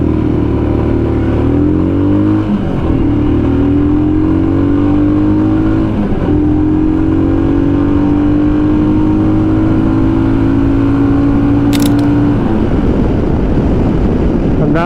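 Stock Royal Enfield Himalayan motorcycle with a performance air filter accelerating hard through the gears from a standstill to 100, its steady engine drone rising in pitch with brief dips at each shift, loud and close throughout.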